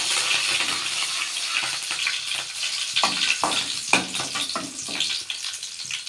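Curry leaves and green chilies frying in hot oil in a pan, a loud continuous close sizzle with brief crackling bursts as the pieces are stirred.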